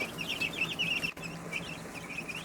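Cornish Cross and ISA Brown chicks, less than a day old, peep in quick, high repeated chirps close by, a busy overlapping chorus that continues steadily throughout.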